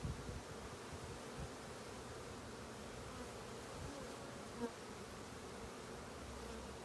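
Agitated honeybees buzz steadily at an open hive during an April inspection, a dense continuous drone close by and filling the whole clip, with a faint rustle and no voices.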